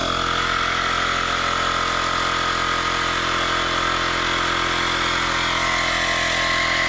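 A Seesii 3-in-1 multifunctional tool pumps a tire up toward a preset 35 PSI, giving a loud, steady compressor drone and buzzing vibration close by.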